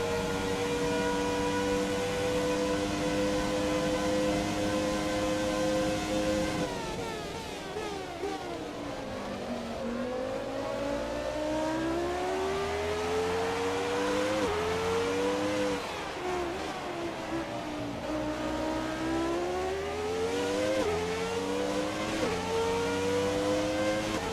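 A Formula 1 car engine in the F1 2017 racing game, a McLaren at the Australia race, screams at high revs, holding a steady whine, dropping sharply, then rising and falling repeatedly through gear changes, loud and continuous without talk.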